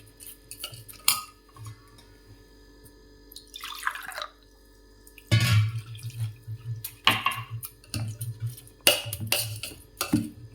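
Water poured into soaked rice and coconut for an egg surka batter, with clinks of a glass and utensils against a metal vessel and splashing bursts, close and fairly quiet, no talking.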